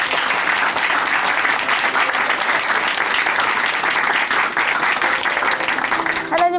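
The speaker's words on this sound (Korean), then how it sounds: "오늘 귀한 사연 전해주신 하은미 자매님께 다시 한번 박수 보내드리겠습니다." Church congregation at Chuncheon Hanmaeum Church giving sustained, loud applause, an even wall of clapping that continues for several seconds before a voice and music begin at the very end.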